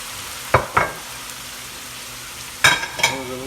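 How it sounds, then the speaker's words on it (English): Carrot, onion and celery sauté in a pan as lumpia filling, giving a low steady sizzle broken by a few sharp stirring scrapes and clatters. "I'm going to let it saute for a minute."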